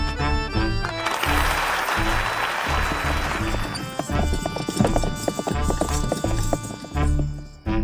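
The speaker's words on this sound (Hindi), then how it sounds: "ये कोई साधारण घोड़ा नहीं बल्कि दिव्य घोड़ा है।" Rhythmic hoof clip-clops from a horse in a dramatized Hindi comedy scene, loud and close, with a brief whinny-like sound, music and speech layered over the steady trotting beat.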